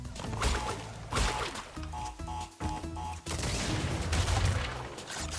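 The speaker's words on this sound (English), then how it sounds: "Almost got caught by the explosion there, but you know, still made it." Crash Bandicoot N. Sane Trilogy on PS4 with a loud burst of crashing, booming game explosions and impacts, interspersed with tonal game effects and short music stabs throughout.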